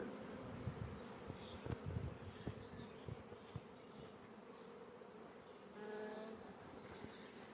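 A honeybee swarm buzzes steadily around a hive at an apiary during swarming, a dense continuous drone with a louder swell near the end and scattered clicks and knocks over it.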